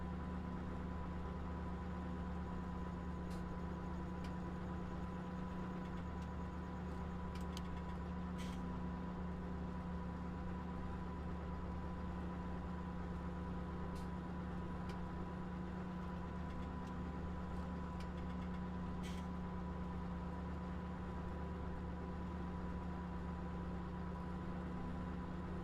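Tractor engine in a farming simulator game, idling at a steady mid-pitched drone for the whole stretch with an even hum and a few faint clicks, no talking.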